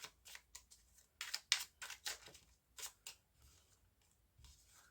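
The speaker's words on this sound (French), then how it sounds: "Alors je vais bien brasser" Tarot cards riffled and shuffled in short, crisp bursts with brief pauses, close and fairly quiet, with no talking.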